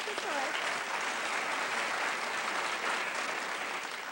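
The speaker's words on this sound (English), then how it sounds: "You can clap, it's all right." Audience applause for a baritone singer at a live show, a dense, steady wash of clapping from a crowd that fills the whole stretch.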